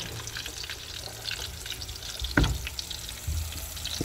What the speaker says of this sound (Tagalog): kailangan lang natin siyang i-sear sa oil